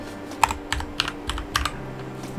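A computer keyboard clicks under quick typing, a short burst of close, crisp keystrokes entering a command, with no voices.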